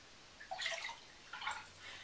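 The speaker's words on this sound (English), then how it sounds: "measure the juice into a measuring jug" Fruit juice for making jelly is poured into a measuring jug in two short, splashy bursts separated by a brief pause, close and fairly quiet.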